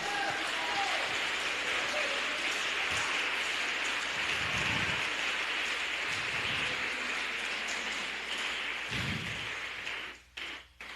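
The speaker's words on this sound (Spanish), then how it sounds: "Un aplauso para él" A church congregation applauds during a Spanish-language sermon, a steady broadband wash of clapping that fills the hall for about ten seconds, with low thumps underneath, before trailing off near the end.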